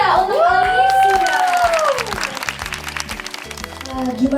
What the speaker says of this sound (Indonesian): beri tepuk tangan yang meriah untuk Alisia